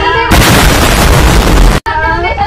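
Firecrackers burst at a home birthday celebration in a loud, dense crackling roar lasting over a second, cut off abruptly, with a short crackling tail afterward, very close.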